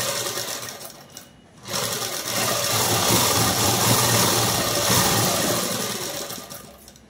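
A sewing machine runs steadily while stitching a lehenga-style long frock, a loud close mechanical whirr that stops briefly and then resumes for a long continuous run.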